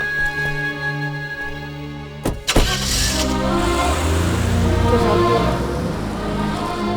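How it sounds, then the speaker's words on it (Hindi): A car engine starts and idles steadily after a couple of sharp clunks like a door shutting, then the motor runs on with a low, continuous rumble. "राजीव, गाड़ी चलाओ।"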